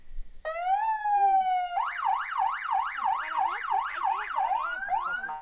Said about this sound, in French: Et on a une petite sirène.